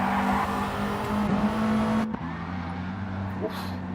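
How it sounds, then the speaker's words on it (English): Remote-control drift car in an EVO v WRX league doing burnouts at the Tokyo Expressway track, a high, steady motor whine that cuts out and shifts pitch halfway, with commentary faintly underneath. "Someone's trying to do burnouts."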